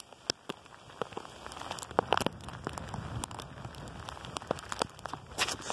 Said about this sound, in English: Heavy thundery hailstone clouds today.